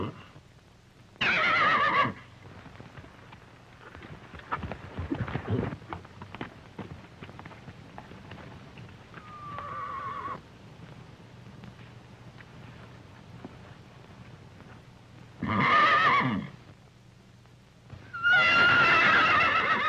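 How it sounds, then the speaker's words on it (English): A horse in a 1935 Western film whinnies several times, with loud neighs near the start and again at the end, separated by quieter stretches of faint background noise and shuffling. "Something is the matter with that horse."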